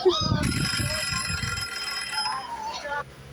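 A bright electronic timer alarm beeps and rings steadily for a few seconds in a classroom, with a brief voice at the start, then cuts off.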